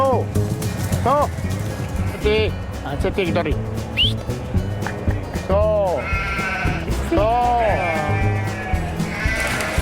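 A flock of sheep bleating repeatedly out in an open Castilian meadow, close and loud, with overlapping wavering calls under steady chatter from people talking.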